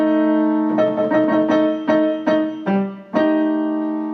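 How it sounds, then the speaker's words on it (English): A sustained chord with a dark, tense flattened fifth, struck repeatedly in uneven stabs that ring out, played alone with no voices. "If you flatten the 5th, it sounds like this."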